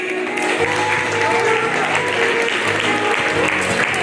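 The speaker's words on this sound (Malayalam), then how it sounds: "എല്ലാവർക്കും വേണ്ടി ഒരു കൈയടി" Audience at a Vishu 2025 inauguration event claps together in a dense, sustained burst of applause lasting the whole stretch, loud and steady with a faint murmur underneath.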